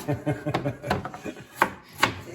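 A knife slices onions for sfincione, a Sicilian street pizza, on a board. There are close, distinct cuts, a quick run of strokes followed by a few slower, louder chops, with no one talking.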